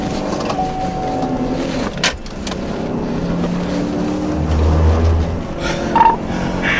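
A car driving off, captured on a police dashcam during a pursuit, its engine accelerating and revving under steady road and wind noise, with a couple of short thumps and a brief electronic tone.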